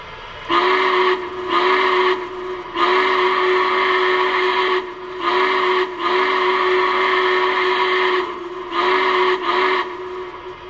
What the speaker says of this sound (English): let's give a listen to the whistle